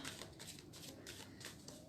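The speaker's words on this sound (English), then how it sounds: "So I'm going to start shuffling." A deck of oracle cards being shuffled, a soft, steady riffling and rustling of card stock with rhythmic bursts, faint and close.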